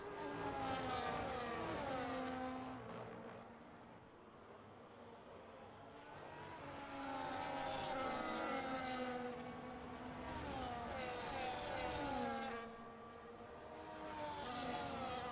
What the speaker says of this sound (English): The McLaren goes ahead of Nova Piper.